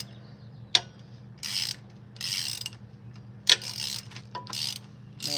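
A ratchet wrench loosening a bolt on an old Chevy 305 engine from an El Camino, in short bursts of rapid clicking, each separated by a sharp metallic clank, close and without talk.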